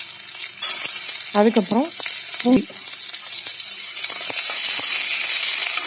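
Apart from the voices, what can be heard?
chopped onions sizzling in hot oil in a pan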